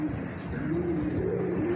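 A pigeon coos nearby in a low, soft, warbling call over a faint steady background hum.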